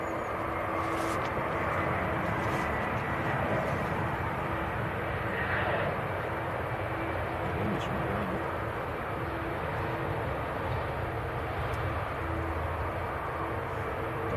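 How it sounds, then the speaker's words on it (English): An EasyJet airliner arriving from Amsterdam touches down at Manchester Airport, a steady, continuous jet engine roar at moderate distance with a faint voice under it. "EasyJet from Amsterdam, just touching down."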